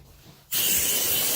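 A steam cleaner starts up abruptly after a brief quiet moment, then gives a loud, steady spraying hiss at close range during nicotine-stain cleaning on walls.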